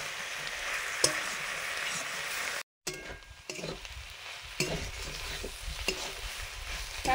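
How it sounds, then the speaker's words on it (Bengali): Leafy greens with turmeric fry in a pan with a loud, steady sizzle that continues throughout, broken by a brief silent gap and a few stirring clatters. "শাক কষানো হয়ে গেছে"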